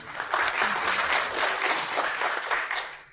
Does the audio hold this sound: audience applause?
yes